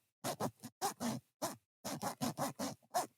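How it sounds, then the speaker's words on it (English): Several quick clothing zipper pulls, short scratchy bursts separated by brief pauses, close and fairly loud with nothing else behind them. "I'm going to use the zipper."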